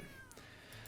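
A short cartoonish cat meow plays as a 2/2 cat token is created in the Magic: The Gathering digital card game, a brief game sound effect over faint background music.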